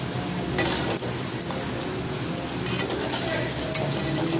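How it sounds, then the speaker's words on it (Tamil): Spinach puri dough sizzles and bubbles in hot oil, a steady crackling fry with occasional sharper pops and faint stirring clatter. "இந்த மாதிரி எண்ணெயில் போட்டு நல்லா பொரிச்சு எடுத்துக்கணும்"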